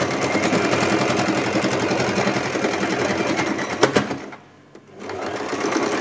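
A sewing machine stitches linen fabric for bridal bed sheets. Its steady, close, motor-driven whirr runs continuously, stops briefly for about half a second, then starts again.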